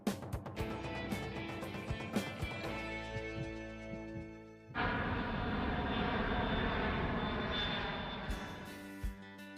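An airplane engine at an airport, a strong steady drone that swells and shifts in pitch with a rising whine, heard alone and fairly close.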